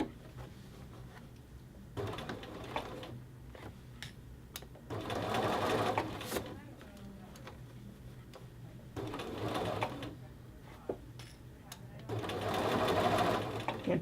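A sewing machine stitches along a men's shirt collar band in several bursts of steady whirring, separated by quieter pauses with some talking.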